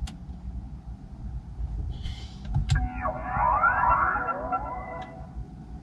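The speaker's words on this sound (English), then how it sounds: "there's a kind of cool sound when you start it up" Start-up sound of an all-electric MINI Cooper SE, heard inside the car: a soft rising electronic chime with a swooshing, sweeping tone over steady low cabin hum, moderately loud and with no talking.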